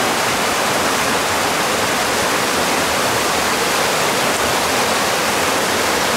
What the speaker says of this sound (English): water here from this stream at Monkey Creek